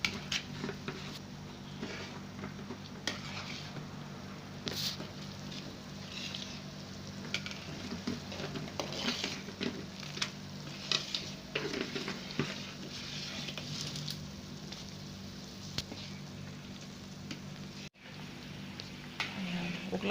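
Sambal chili oil bubbles and sizzles steadily in a pan while being stirred, a continuous close crackling frying texture with a low steady hum beneath, no talking.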